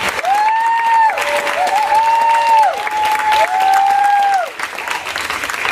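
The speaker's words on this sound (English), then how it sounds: "So give a round of applause for that time." Sustained applause from an audience at a live ministry gathering in Stockbridge, Georgia, with a sung or whooping tone gliding over the steady clapping for about five seconds before tapering off.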